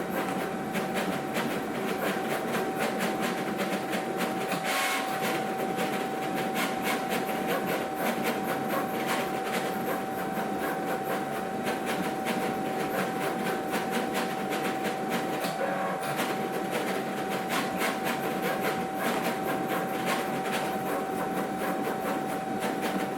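A Cricut cutting machine cuts out tree shapes with a steady, continuous mechanical whir and a fast, even clicking that runs unbroken throughout. It sounds fairly close, with no voices.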